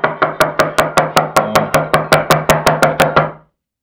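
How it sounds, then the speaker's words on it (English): A rubber mallet, softened by boiling, taps a bonsai pot to settle the soil, giving about sixteen evenly spaced, sharp knocks in quick steady rhythm, close and loud, with no talking. "uses a mallet to settle the soil into the bottom This is a rubber mallet"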